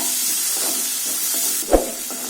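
Onions sautéing in a pan for a Tamil egg masala fry give a steady soft sizzle and hiss, with a brief louder stir or clatter near the end.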